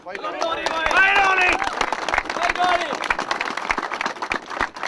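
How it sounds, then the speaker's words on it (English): A crowd at a county under-21 hurling final cheers and claps for the team, with loud dense clapping and shouted whoops close by, mixed with voices throughout. "I think you deserve a big cheer for that."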